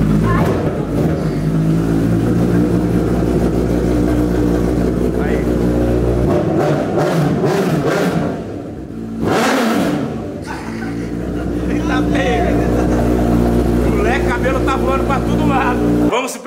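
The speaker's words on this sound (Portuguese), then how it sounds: "Vou ligar a moto." A 2020 Honda CB1000 motorcycle engine idles and revs loudly at close range, with a brief dip in the middle before the throttle swells again. Voices talk over the engine throughout.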